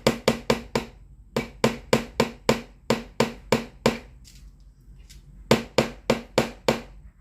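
Sharp hammer taps in quick bursts of four or five, close and loud, with short pauses between the runs, as nails are hammered into a string art board for an owl kit.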